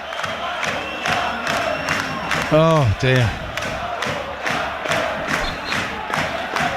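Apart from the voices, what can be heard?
football crowd singing a player's name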